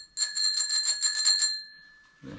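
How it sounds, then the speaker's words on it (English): A cheap little bicycle bell on a 1974 Schwinn Continental rings in a quick rattling trill for about a second and a half, bright and close, then fades out before a faint bump. "Cheap little bell, barely works."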